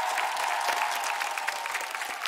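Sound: audience applause on TV show

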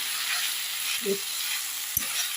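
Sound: vegetables frying in a pan

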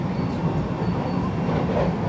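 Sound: train arriving at a Kyoto station platform

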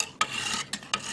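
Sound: hunting knife sharpened on medium sharpening stone

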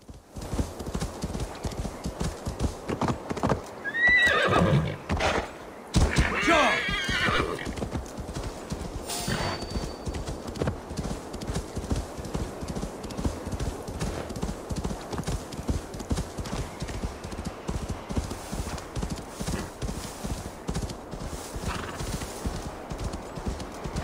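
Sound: horse galloping hooves in Assassin's Creed Valhalla video game

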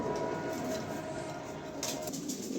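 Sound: pigeons cooing

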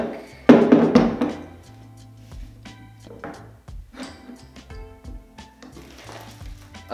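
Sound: attaching quick release plate to Manfrotto 290 tripod fluid head

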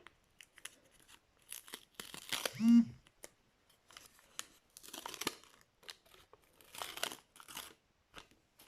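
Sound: paper packet being opened

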